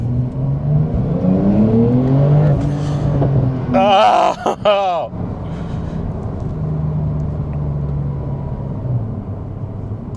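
Porsche 911 Turbo S accelerating hard, a loud rising engine roar with climbing harmonics that builds for a few seconds, then a sharp burst of higher-pitched whine and rush before settling into a steady rumbling drone; a brief exclamation is heard.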